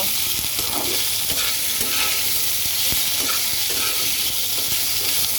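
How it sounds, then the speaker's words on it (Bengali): Ginger and potatoes sizzle steadily in a pan while stirred, with scraping and knocks from a spoon breaking through the constant hiss of frying. "তো চলো দু এক মিনিট আদাটাকে একটু সুন্দর করে ভেজে নেই"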